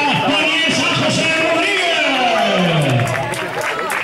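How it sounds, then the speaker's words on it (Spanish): A finish-line crowd at the Laguna 2015 race applauds and cheers a runner coming in, a loud, steady wash of clapping and voices that dips slightly near the end. "ese aplauso para Vanessa José"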